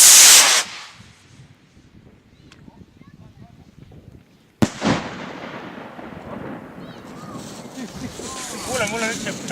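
New Year's Eve fireworks exploding outdoors, a loud burst at the start, then one sharp close bang followed by sustained crackling and rumbling, with people talking in the background.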